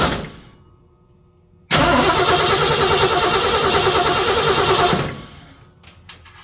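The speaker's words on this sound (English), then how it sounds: "I'll hook up the battery and we'll crank it over at least so you can see it." Classic Ford truck engine cranks briefly, then catches and runs loud and steady for a few seconds before cutting off, leaving quiet with a few faint clicks.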